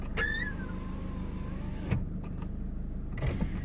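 Peugeot 207 CC convertible with a faulty roof mechanism, a faint electric motor whine rising and falling briefly, followed by a few soft mechanical clunks and clicks against a low idling-car hum.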